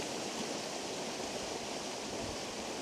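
A small waterfall in Alva Glen, Scotland, pours steadily as a constant broadband rush of falling water, close and unbroken, with no voices.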